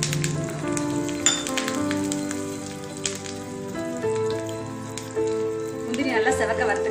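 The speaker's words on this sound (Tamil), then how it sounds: "இப்போ முந்திரியெல்லாம் நல்லா வறுத்தாச்சு" Cashews fry in a pan of ghee with ginger and curry leaves for ven pongal, producing a continuous crackling sizzle heard close, while a voice and tonal background sounds run underneath.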